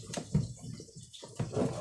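Water drains from a tank fitted with a float switch, giving soft, uneven gurgling and splashing close by, fading briefly before surging again.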